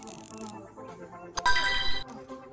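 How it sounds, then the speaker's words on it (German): A mobile phone rings with a short melodic ringtone burst lasting about half a second, heard over quieter electronic game sounds and tones. "Da hat gerade mein Handy geklingelt."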